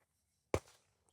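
A single sharp gunshot from an HK MP5 pistol-caliber carbine cracks out, a sudden loud impulse followed by a short decaying tail, heard alone.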